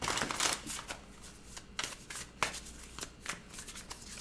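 A deck of cards shuffled nearby, a busy run of crisp riffling snaps and flutters that keeps going without speech.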